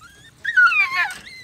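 A puppy whimpers close by, giving a short, high, wavering whine that rises and falls, then a thin squeak at the end.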